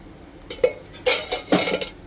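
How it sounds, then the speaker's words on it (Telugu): A frying pan is set on a kitchen stove and oil is added for a radish fry, producing a few close metallic clanks and clinks in quick succession with no talking. "స్టవ్ పైన పాన్ పెట్టి ఒక 3 స్పూన్లు ఆయిల్ వేసుకోవాలండి"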